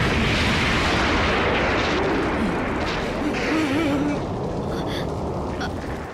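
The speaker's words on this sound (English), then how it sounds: "The world government commits genocide by bombarding her home island, Ohara, with 12 warships." Warships bombarding Ohara island in the One Piece anime, a dense roar of rumbling blasts and booming explosions that fades slightly toward the end.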